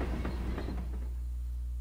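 Train sounds from the Paper Mario: The Thousand-Year Door video game, a loud low rumble with rattling clatter that eases into a steady hum, with no voices.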